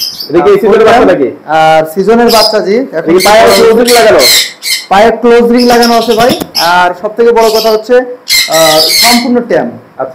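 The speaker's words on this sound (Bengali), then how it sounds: "চন্দনা পাখির ডাক কিন্তু অনেক আওয়াজ" A tame Alexandrine parakeet with a closed leg ring, young of the season, gives loud, harsh repeated squawks close by, nearly continuous, with someone talking over and between the calls.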